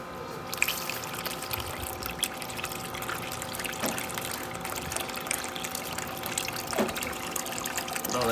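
Water running steadily while sluicing equipment is rinsed outdoors in Arizona, a constant close rushing splash with occasional clunks, moderately loud and with no talking.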